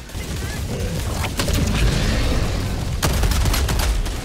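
Heavy weapon fire and explosive booms rumble through a Helldivers battle, loud and continuous with sharper blasts near the end, and a voice talks over the din.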